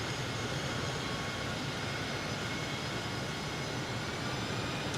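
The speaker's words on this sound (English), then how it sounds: "You got a Harrier trying to come and park next to you." A Harrier jet taxis to park in Microsoft Flight Simulator 2020 at RAF Waddington, a steady, even engine roar and whine holding level throughout, moderately loud with no talk.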